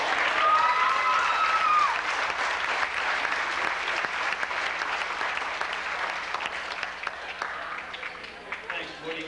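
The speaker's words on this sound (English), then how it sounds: "So I'd like to have everybody give a round of applause for my offensive and defensive line coach," Warm applause from a banquet audience for an offensive and defensive line football coach, loud at first and gradually thinning out, with a brief voice and crowd murmur mixed in.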